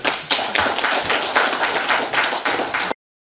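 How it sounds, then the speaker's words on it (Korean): An audience at an academic conference claps together to welcome an emeritus professor to the stage, with dense, steady applause that holds evenly for about three seconds and then stops abruptly. "모두 큰 박수로 맞이해 주십시오"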